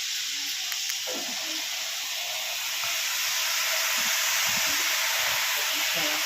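Grated potatoes fry in a generous amount of hot oil in a wok, giving a steady, dense sizzle with hiss that runs unbroken throughout, close and fairly loud.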